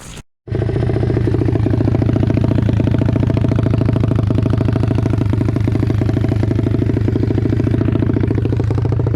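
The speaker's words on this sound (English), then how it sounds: "Starting to idle by itself, so it's getting nice and warm and everything." An Apollo RFZ dirt bike engine idles after a tune-up with new parts, starting after a brief silence and then holding a loud, steady, close-up thumping idle with a rattly, clattery edge.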